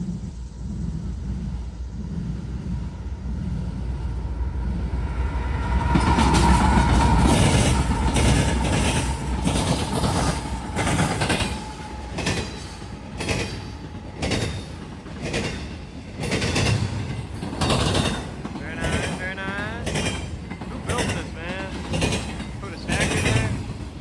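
CSX freight train rolling past at a grade crossing near St Joe and Garrett, Indiana, a loud sustained rumble with rhythmic clicking of wheels over rail joints throughout.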